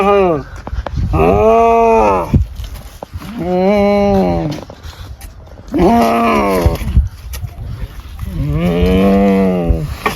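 A cow moos four times, long loud groaning calls close by, each lasting over a second with short pauses between, with no other sound competing.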